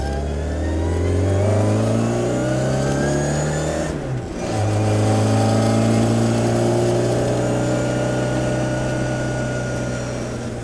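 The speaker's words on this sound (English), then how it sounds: "the straight cut gears. It's the best sound." A 1968 Austin Mini Cooper engine with straight-cut gears revs loudly and steadily, dipping briefly as it shifts, then climbing again with a continuous mechanical gear whine.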